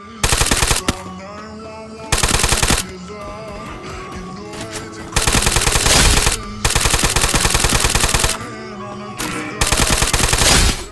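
Bursts of automatic gunfire from Garena Free Fire battle royale gameplay, loud rapid strings of shots in several long volleys separated by brief pauses, close and dominant with no talk over them.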